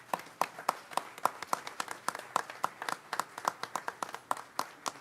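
Applause for school leaders at a school district board meeting, a small group clapping in a steady run of sharp, distinct claps at moderate distance, lasting throughout.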